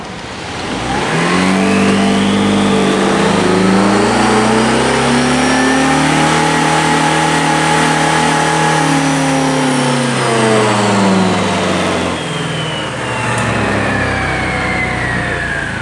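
A Honda PCX 150 scooter engine revs hard during a variator speed test, rising and sweeping up in pitch, then easing down and climbing again, loud and close with no talk.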